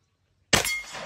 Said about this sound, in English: I'm gonna shoot a little steel.